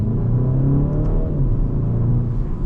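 A front-wheel-drive 2026 BMW 228i pulls away and accelerates, its engine giving a steady, loud rumbling drone heard from inside the cabin with no talking.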